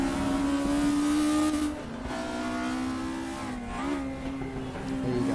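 VW Scirocco GRP2 race car engine in a racing video game at Brands Hatch, a loud sustained high-revving drone whose pitch dips on a gear change and climbs again, with no talk.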